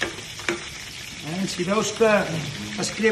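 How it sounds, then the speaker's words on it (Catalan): An escalope sizzles and crackles as it fries in hot oil, a steady close sizzle with occasional spatters while a person talks over it. "Escalopa. Està fregint."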